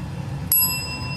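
A bicycle bell gives a single bright ring partway through, its tone sustaining and fading over a steady background hum.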